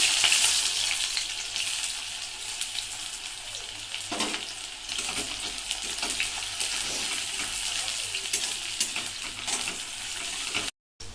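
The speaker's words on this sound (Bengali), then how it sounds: "আর এখানে দেখতে পাচ্ছ কড়াতে তেল দিয়ে দিয়েছি।" Onion frying in hot oil in a wok gives a loud, steady, dense sizzle that keeps up with no break, broken only by a couple of brief bursts of stirring and a short dropout near the end.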